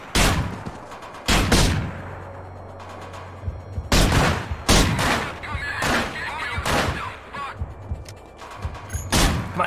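Gunfire in the Manhunt video game: loud bursts of shots in clusters with gaps between, sharp cracks and short rapid volleys, close and punchy, with a little voice underneath.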